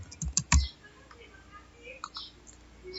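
Typing on a computer keyboard: a few quick, close key clicks clustered at the start, then sparse faint taps over a quiet background.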